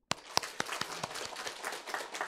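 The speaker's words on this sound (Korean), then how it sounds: "우리 박수 한번 합시다" A church congregation at an elder and deaconess installation service begins clapping: a few sharp, distinct claps at first, then a thinner, quieter patter of scattered hands.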